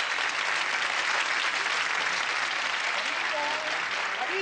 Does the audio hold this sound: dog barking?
no